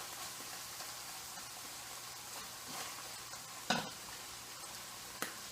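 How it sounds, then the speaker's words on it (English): Ground beef and raw garlic sizzle steadily in a pan, a soft continuous frying hiss with a couple of brief clinks from stirring, close and without talk. "So just let the garlic start to cook in with the meat."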